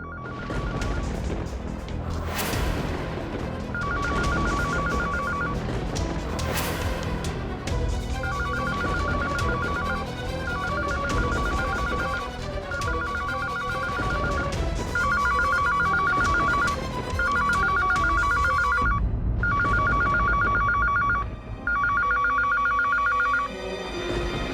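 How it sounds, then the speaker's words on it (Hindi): A telephone rings over and over in regular bursts indoors, loud and steady above a dense bed of dramatic music and scene noise, with no talking. "ये कौन सा फोन की आवाज है?"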